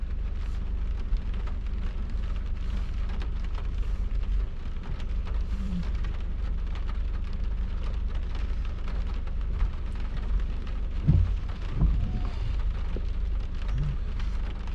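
Steady rain patters throughout during a November thunderstorm, with a low rumble of thunder swelling faintly in the background near the middle and end; fairly quiet and without voices.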